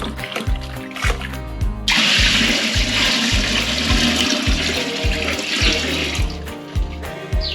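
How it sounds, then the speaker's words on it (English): Six litres of cold water gush steadily into a container while making elderflower champagne, a loud broad rush with splashing, set against rhythmic low-pitched background music. "Now I've got to add 6 litres of cold water."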